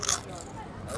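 Fried cassava chips crunched close to the mouth, a bright crisp bite at the start and then softer chewing.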